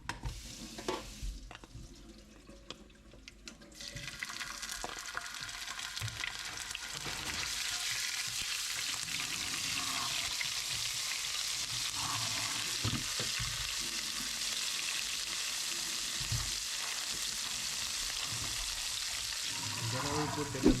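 Ginger garlic paste goes into a hot pan after asafoetida and fries with a continuous sizzle. A stirring clatter and a stretch of quieter sounds come first, then the sizzle settles into a steady hiss that lasts to the end.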